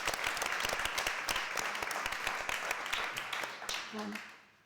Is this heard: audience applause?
yes